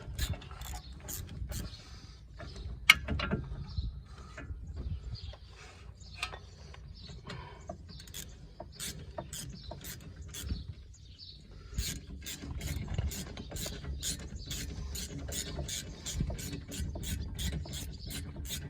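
Ratchet tightening bolts while changing front brake discs and pads on a BMW, crisp rapid clicking pawl bursts in repeated short runs, close and fairly quiet, with pauses of softer handling noise between them.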